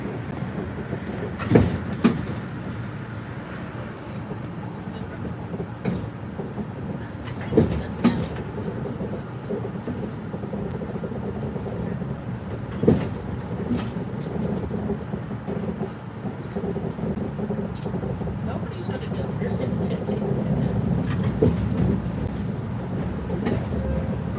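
A Mattapan line trolley train rumbles along the rails with a steady low roar and a few sharp clacks and bangs from the wheels, while a voice talks over it now and then.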